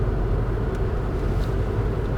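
Steady low rumble of a police car driving on a road, with engine and tire noise filling the cabin evenly and no talk.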